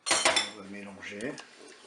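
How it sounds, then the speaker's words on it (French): A spoon clinks against the pot while crème fraîche is stirred into pork curry in a Cookeo multicooker, with a few sharp clatters at the start and then softer scraping. "On va mélanger."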